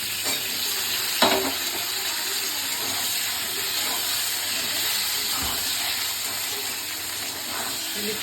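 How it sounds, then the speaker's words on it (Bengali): Black cumin seeds hit hot oil as tempering for a home-cooked hilsa fish dish, giving a loud, steady sizzle and hiss. One brief clatter near the start breaks the otherwise unbroken frying. "কালো জিরে ফোড়ন দিলাম।"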